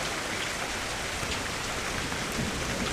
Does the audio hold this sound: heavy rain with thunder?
yes